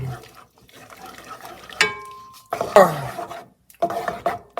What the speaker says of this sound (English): stir it until the chocolate has nicely melted